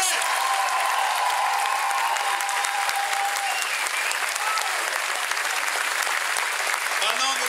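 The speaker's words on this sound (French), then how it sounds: "Un tonnerre d'applaudissements pour Violaine." Thunderous applause from an audience at a student talent show, continuous dense clapping at a steady loud level with a brief voice near the start and end.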